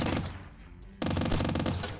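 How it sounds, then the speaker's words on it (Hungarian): A submachine gun fires in the video game Squirrel With A Gun, with a short burst, a brief pause and then a loud, rapid sustained volley of close shots. "wow, submachine gun"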